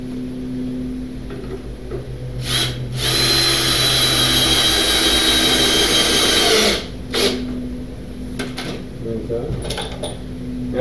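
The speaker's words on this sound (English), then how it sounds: "So I'm gonna put a screw in each one of them." A power drill drives 2.5-inch screws into a homemade wooden spool for a lawn cart, a steady whirring run of several seconds with shorter bursts before and after, between bits of talk.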